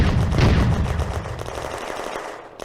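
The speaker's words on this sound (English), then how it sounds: "Under supporting fire from the Panzers." German Panzers open fire in the World War II video game Firefight, a loud burst of rapid gunfire that thins into scattered shots as it fades.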